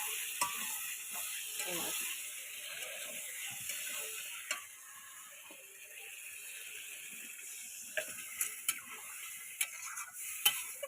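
Meat curry sizzles and fries in a pan in a home kitchen as a little water is added, a steady faint hiss with scattered sharp crackles and ticks, while someone talks.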